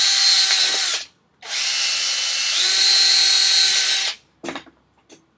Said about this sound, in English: So we're just going to drill some holes with the drill.